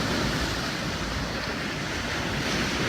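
Hurricane Dorian's storm surge crashes against a concrete seawall at King and Prince Beach on St. Simons Island. The water makes a steady, loud roar, heavily mixed with gusting wind buffeting the microphone, and no one speaks.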